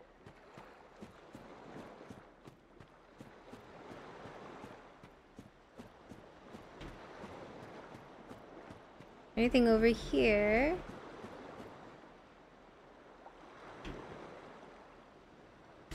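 Flowing water in the video game Dark Souls washes steadily like surf in the background, a soft continuous rush with a louder burst of game effects midway, while a voice talks over it.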